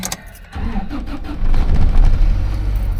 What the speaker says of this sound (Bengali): তো গাড়ি স্টার্ট করি